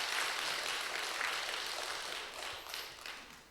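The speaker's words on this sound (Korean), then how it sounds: "여러분 박수 한번 보내주셔야 돼요" A church congregation claps together in a sanctuary, a soft, even spread of applause that fades toward the end.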